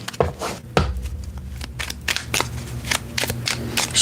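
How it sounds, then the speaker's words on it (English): Tarot cards shuffled by hand, a run of quick riffling and flicking bursts in an uneven rhythm, close and fairly loud, with no talking. "Shuffling for Taurus."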